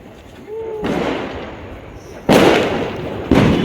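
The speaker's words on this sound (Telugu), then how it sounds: "వెనకాల టపాకాయలు ఎట్లా పెళ్తున్నాయో" Firecrackers set off for a birthday celebration burst in the background, three sharp, loud blasts spaced over a few seconds, each trailing into a crackling noisy decay, with faint voices.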